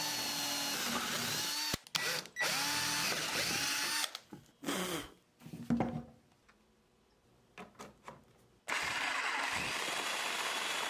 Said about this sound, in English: Now you want to drill a few holes to fit the jigsaw blade through.